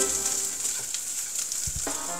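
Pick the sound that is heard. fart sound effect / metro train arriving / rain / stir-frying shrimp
stir-frying shrimp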